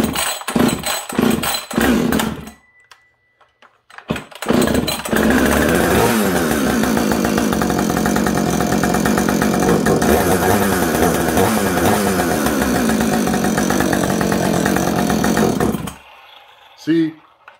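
Chainsaw with a scored cylinder and piston, heard first with sharp pull-start tugs, then a pause before the engine catches and runs loudly and steadily for about ten seconds.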